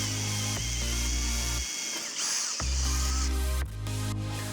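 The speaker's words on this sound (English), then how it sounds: "that we're going to be drilling the holes for our mounting bolt" A power drill bores holes through a fiberglass boat hull for the mounting bolts of a Minn Kota Ultrex trolling motor. The steady, loud whine runs in two long bursts separated by a short pause, then dips briefly near the end.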